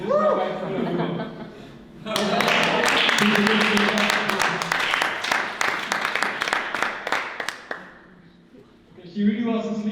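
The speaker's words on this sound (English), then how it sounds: "give her a round of good applause" An audience applauds loudly and continuously for a man's wife as she is introduced to a German crowd, the dense clapping running for several seconds with laughter mixed in before fading, while voices talk at the start and end.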